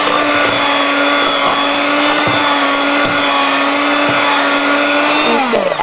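An electric mixer runs on low through blueberry muffin batter, a loud, steady motor whine held at one pitch with faint periodic thumps of the beaters, winding down at the very end.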